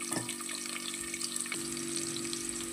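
Thinly sliced red onion frying in hot oil, a continuous bright sizzle with light crackles and occasional stirring clicks, close and fairly quiet, no talking.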